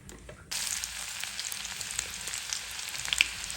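Dried chillies and garlic hit hot oil for a bhuna-style tempering, a sudden loud sizzle bursting in after a half-second of quiet and crackling steadily close up with small pops.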